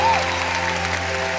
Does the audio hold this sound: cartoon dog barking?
no